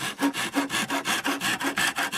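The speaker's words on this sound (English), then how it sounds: "Now you can either take this off with the chisel or just saw across." Hand saw cutting across the wood of a carved love spoon, about seven even back-and-forth rasping strokes in a quick steady rhythm, close and alone.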